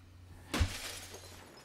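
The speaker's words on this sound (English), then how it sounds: "Somebody just smashed my window?" Window glass smashing in the horror game Fears to Fathom, Home Alone Episode 1: one sudden, loud crash with a heavy low thud, and the shatter tails off over about a second against a quiet room hum.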